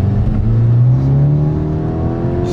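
A tuned Skoda Octavia vRS making 392 brake horsepower accelerates hard on boost, the engine note rising steadily in a loud, continuous drone heard from inside the car, with no talking.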